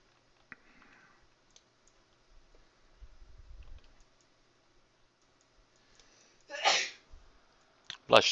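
A single sharp, loud sneeze bursts out near the end against a quiet background of faint keyboard clicks and soft tapping, followed by a brief second burst.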